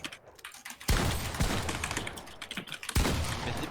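Bursts of rapid gunfire and sharp shot cracks ring out during a competitive shooter video game match, mixed with clattering keyboard taps, loud and dense throughout.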